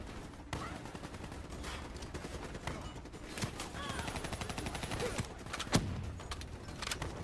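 Gunfire in the Call of Duty Black Ops 3 video game: dense, continuous bursts of automatic shots and scattered blasts crackle throughout a busy combat mix, with louder close hits near the end.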